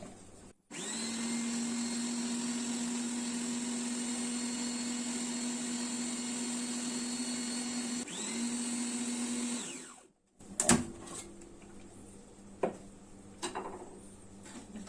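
A food processor whirs steadily as it blends a red lentil bread batter with baking soda, a loud continuous motor hum that runs alone for about nine seconds, briefly dips, then stops, followed by a few knocks and clatters.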